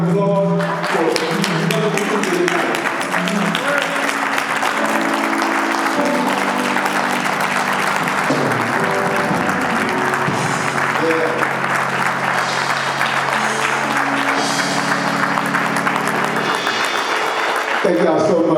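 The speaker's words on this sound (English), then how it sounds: "can we all stand and give yourselves a warm round of applause" A standing audience gives warm applause at an award ceremony, with dense, continuous clapping lasting well over fifteen seconds, loud and steady, while sustained musical tones play underneath.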